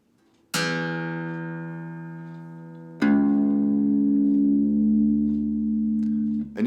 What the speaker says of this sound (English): then I'm going to pluck the same string on this guitar and try and make them sound the same